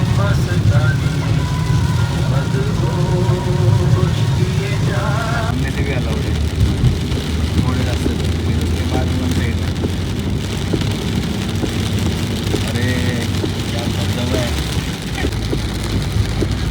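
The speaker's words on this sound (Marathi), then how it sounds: "पावसाचे थेंब टपटप टपटप पडत आहेत गाडीवर, इतका छान आवाज येतोय" Rain patters steadily on a car on the Nashik highway, a dense continuous hiss of drops with a low engine and road rumble underneath and a voice talking over it.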